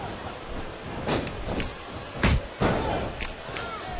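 During a professional wrestling match between The Great Khali and The Undertaker, a wrestler is slammed against a security barrier wall, producing a couple of dull, heavy thuds over a constant arena crowd roar.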